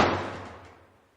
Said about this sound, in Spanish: alguien cerró la puerta desde adentro